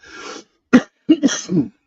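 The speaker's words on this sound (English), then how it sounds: "Sorry for the coughing." A few harsh coughs in quick succession, close by: one sharp bark, a pause, then a cluster of two or three rougher coughs.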